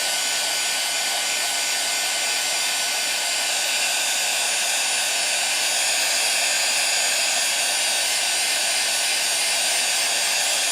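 Heat gun blowing hot air onto embossing powder on stamped watercolor paper, a loud, steady, close rushing whoosh that holds constant throughout, no talking.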